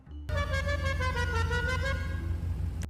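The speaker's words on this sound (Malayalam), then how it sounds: "നമുക്ക് ഈ ഹോൺ അങ്ങ് വെച്ച് കൊടുക്കാം" A Lamborghini Aventador's horn in GTA 5 sounds one loud, steady blast of nearly three seconds that cuts off abruptly, with no other sound around it.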